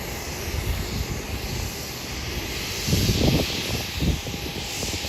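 Southwest Airlines Boeing 737-700 jet departing Hollywood Burbank Airport for San Francisco; a steady, loud engine roar with broad hiss fills the clip and swells slightly near the end.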